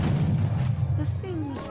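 Cannon fire from ships in a naval video game, heard as a dull, heavy boom with low rumble, brief and muffled, partly under a voice speaking.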